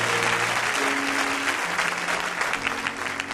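A church congregation applauds during a worship service, a dense, loud wash of clapping that holds steady throughout with a faint hum of voices underneath.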